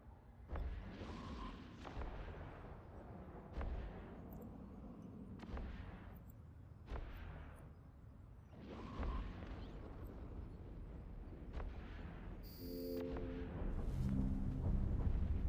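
Spaceship weapons firing in the space game Eve Online, repeated heavy booming shots at irregular intervals with rumbling decay, a few sharp electronic interface tones near the end.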